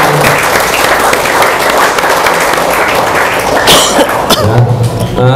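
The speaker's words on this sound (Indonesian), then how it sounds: "tepuk tangan untuk kader bullying yang ada di sini" Loud, sustained applause from a school audience at a talk show in Denpasar, dense clapping filling the room, with a cough or two breaking through near the end.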